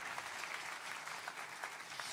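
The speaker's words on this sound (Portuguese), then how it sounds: "Porque isso merecem aplausos." A church congregation applauds: an even, quiet rush of many people clapping together, sounding somewhat distant and lasting about two seconds.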